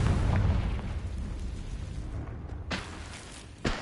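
Confringo fire spell blasts in Hogwarts Legacy, a dense rumbling explosion that fades into a low roar, with two sharper bursts near the end.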